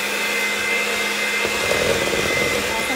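Electric mixer beating keto snickerdoodle blondie batter, a steady loud motor whine with a constant hum and slight variation as the beaters work, close by and uninterrupted.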